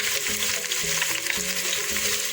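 Onion and garlic frying in about two tablespoons of hot oil in a pot for lasagne, giving a dense, steady crackling sizzle up close with a few soft stirring knocks.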